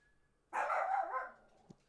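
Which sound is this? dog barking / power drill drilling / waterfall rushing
dog barking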